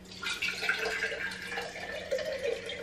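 Tap water runs steadily into a sink at home, a continuous close, moderately quiet rush with a few brief spattering rises and no voices.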